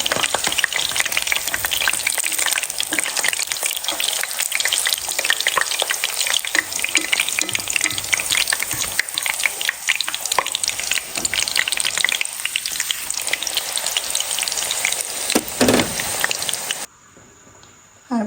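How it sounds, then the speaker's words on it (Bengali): Chicken wontons deep frying in hot oil make a loud, continuous bubbling sizzle with crackling spatter that carries on steadily before cutting off abruptly at the end, with no talk over it. "এখন দিয়ে দিলাম ভাজার জন্য। আমি যে এখানে ভাজতেছি"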